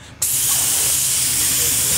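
An aerosol spray can hisses in one steady, loud burst that starts abruptly and continues without a break for nearly two seconds.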